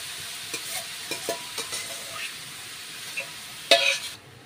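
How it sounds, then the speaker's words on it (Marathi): Grated carrots sautéing in ghee for carrot halwa, a soft steady sizzle punctuated by a series of light stirring scrapes and one louder clatter against the pan near the end. "त्यामध्ये हा गाजराचा हलवा करण्यासाठी गाजर परतून घ्यायचं"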